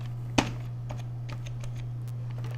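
Keys on a computer keyboard are tapped while working in an Excel spreadsheet, one sharp near click followed by a few lighter scattered taps over a low steady hum.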